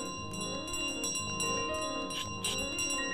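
A hand bell carried by the goose in Untitled Goose Game rings steadily for the whole stretch. Its clear, sustained tones sit over busy game background sounds, with no talking.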